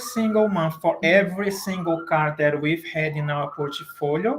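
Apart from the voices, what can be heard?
siren passing outside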